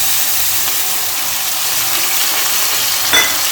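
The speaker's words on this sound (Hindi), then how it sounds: "अब मसाला मैं थोड़ी देर भून लूँगी।" Continuous loud sizzling and crackling of masala spices frying in a hot pan for a pea curry, with a brief clink near the end and no voices.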